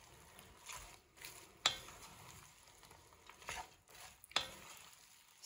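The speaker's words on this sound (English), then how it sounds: "I'm gonna stir this until it gets completely covered with the oil and butter." Onions fry in butter and oil for French onion soup while being stirred, a quiet steady sizzle broken by a few sharp utensil scrapes and clicks against the pan.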